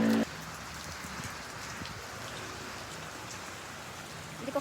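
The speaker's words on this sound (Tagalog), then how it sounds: "Eh, umuulan." Steady rain pours down, a dense continuous hiss of drops hitting surfaces close by, with a brief louder burst at the very start.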